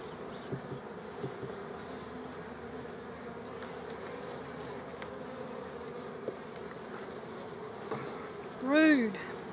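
Honey bees drone in a steady, dense hum while hive frames are moved into a long bench hive, with one louder bee buzzing close past near the end.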